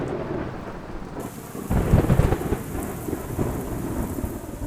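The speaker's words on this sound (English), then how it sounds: "Summer rains can be torrential." Torrential summer rain pouring down in the Everglades wilds along Fisheating Creek, with a loud thunder rumble swelling near the middle over a steady hiss of downpour.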